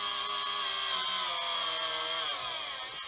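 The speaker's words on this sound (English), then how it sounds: "we can just drill through like that" A battery power drill whirs steadily at high pitch, drilling through a 1/200 scale model Titanic hull, its motor tone sagging slightly near the end as it bites through material, the battery running low.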